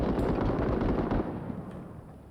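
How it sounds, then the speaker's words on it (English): Gunfire in the video game Six Days in Fallujah, a dense, continuous rattle of shots that is loud and close and eases slightly toward the end. "We had these guys being shot at in the other building to the left."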